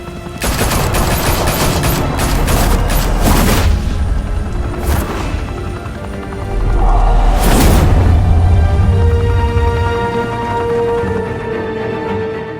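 Heavy gunfire in the video game Batman: Realm of Shadows, with loud rapid volleys and booming blasts filling the scene continuously, swelling again midway through.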